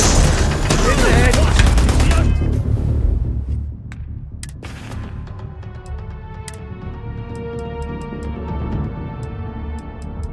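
Starfield combat with heavy bursts of gunfire and booms, loud at first and then thinning to scattered sharp shots over a droning background, with voices in between.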